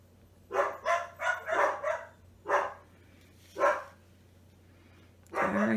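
Dogs bark indoors in a home, a run of five quick, fairly close barks followed by two more spaced-out barks and the start of another, with a low steady hum underneath.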